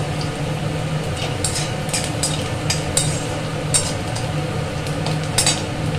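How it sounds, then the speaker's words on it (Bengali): Chopped onions frying in hot oil until reddish-brown, a steady sizzle with intermittent sharp scrapes and clicks of a spatula against the pan, close up and without voices. "পেঁয়াজগুলো লাল করে ভেজে নেবো।"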